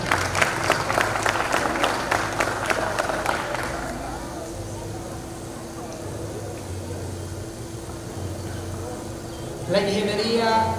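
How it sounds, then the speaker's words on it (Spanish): Audience applause at a municipal public session in Charapotó, loud for the first few seconds with dense claps, then fading into a low crowd murmur with a steady hum underneath. "Aplausos para recibirlo."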